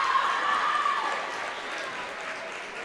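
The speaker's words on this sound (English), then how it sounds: "you can hear the applause of the crowd" A crowd at a basketball game applauds in a dense, steady wash of clapping that slowly fades, with faint voices mixed in.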